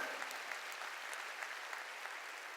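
A church congregation at a Korean sermon claps steadily together, a dense, even patter of applause that sounds somewhat distant and moderately soft, with no one talking.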